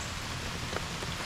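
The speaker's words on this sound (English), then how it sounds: "it started raining on me" Rain falls steadily on a creek under trees during kayak fishing, a dense even patter that fills the whole moment with no voices.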